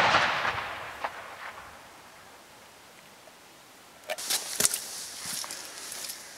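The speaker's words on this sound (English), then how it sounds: "Now I'll use this to fire off my charge because it's a lot more fun." A Semtex charge set off with an 1800s plunger box: a broadband blast fades over a second or two, then a quiet gap, then a cluster of sharp, distant-sounding cracks and rumbles, with no talk.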